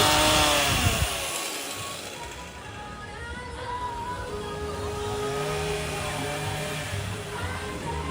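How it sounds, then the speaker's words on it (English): A chainsaw runs steadily nearby at a harvest festival, its engine droning and shifting pitch as it revs, a loud buzzing that fills the whole stretch. "didn't want to try to talk too much with the chainsaw going"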